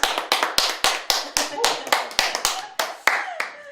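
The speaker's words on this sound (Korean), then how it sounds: "아 박수 다시 한번 할까요?" An audience claps in slow, separate, loud beats, roughly fourteen sharp claps in a steady rhythm, with a little talking in between.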